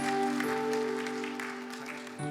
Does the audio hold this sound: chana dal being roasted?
no